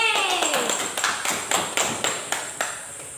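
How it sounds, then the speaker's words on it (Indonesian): A small classroom group claps a handful of distinct, evenly spaced claps. A brief descending tone opens the sequence, and the room behind the claps is quiet. "Ya, tepuk tangan dulu untuk kita semua."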